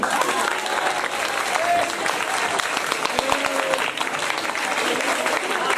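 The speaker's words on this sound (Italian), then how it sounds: "Applausi per l'altra squadra." Sustained, dense applause from a large crowd fills the space, steady and loud throughout with no pauses.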